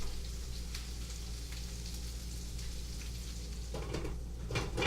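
Onions hitting hot oil with frying meatballs for porcupine meatballs, a steady close sizzle throughout with brighter crackling bursts near the end, no talking.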